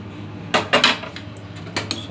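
Brinjal pieces go into a cooking pan for a wedding-style vankaya onion fry, giving a few sharp metallic clinks and clatters of utensil against pan in two short bursts, fairly loud and close.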